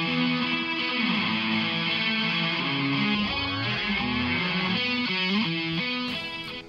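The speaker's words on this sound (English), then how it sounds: "Let's use a light echo." Electric guitar runs through a Waves GTR3 light echo delay, with distorted sustained notes and a sliding bend trailing into soft repeats, loud and up front without any speech.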